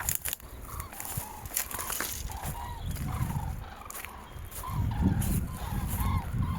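A flock of birds crowds a chickpea field, honking and calling continuously over a steady outdoor background, moderately loud and busy without pause.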